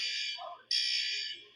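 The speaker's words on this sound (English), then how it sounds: "this fire alarm was pulled again." A building fire alarm blares in two loud, harsh electronic bursts separated by a brief gap near midnight, sounding alone and close.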